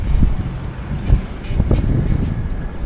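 Wind buffets a microphone outdoors in Nagoya, Japan, with loud low rumbling gusts that swell and dip throughout the short stretch.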